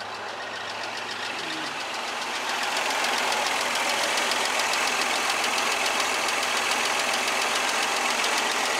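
The engine of a 1984 Ford Ranger runs steadily at idle, a continuous even drone with a faint knocking texture that swells slightly after a couple of seconds, no voices over it.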